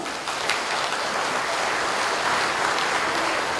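An audience at a national security forum in a hotel hall applauding, a dense, even roar of many hands clapping that holds steady throughout.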